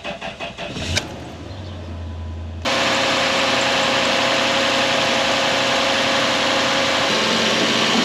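A Toyota 3UZ V8 in a 2013 Hilux cranks with a brief starter whir, then catches and settles into a loud, steady idle that runs continuously, close up and with no talking.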